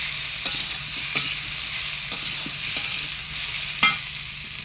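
Onions fry in a pan in a home Bengali kitchen, giving a steady close sizzle broken by a few sharp scrapes and knocks of a spatula stirring. No one speaks.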